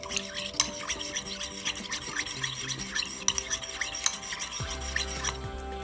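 A spoon stirs and scrapes through a watermelon, feta, cucumber and olive salad dressed with pepper and olive oil, giving close rhythmic rubbing and scraping strokes against the bowl, alone with no talk.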